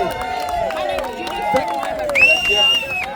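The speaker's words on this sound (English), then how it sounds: "Big round of applause for Kelly being out here." Crowd clapping and cheering for Kelly at a gathering, a steady wash of hands and voices with a whistle-like tone near the end, people talking over it.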